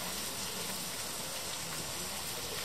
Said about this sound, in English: You can see the waterfall from here.